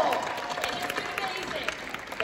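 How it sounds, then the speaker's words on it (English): An audience applauds and cheers at a Jujutsu Kaisen voice-actor panel at an anime convention, a dense wash of clapping with voices mixed in. "A round of applause."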